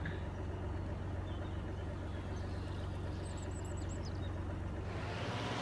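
A farm tractor pulling a narrow mower in Farming Simulator 25 drones at a steady idle-like rumble, with a constant low engine hum throughout and a faint rising whine near the end.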